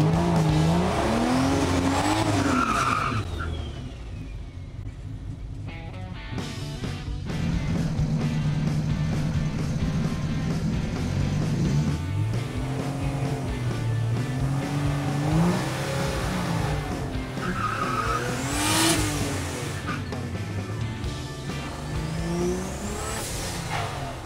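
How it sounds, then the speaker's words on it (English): A 1965 Chevy C10 Fleetside pickup runs down a dragstrip, its engine roaring loud and close as it revs up and climbs through rising gears, with brief tire squeal and no talking. "about to run a little C10 down the track and see how fast it goes"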